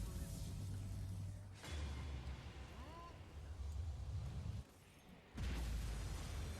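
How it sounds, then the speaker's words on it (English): Big explosion during a boss fight in Guild Wars 2, a loud low rumbling blast with whooshing debris that swells and holds for several seconds, briefly drops out, then surges back heavy and sustained. "Big explosion."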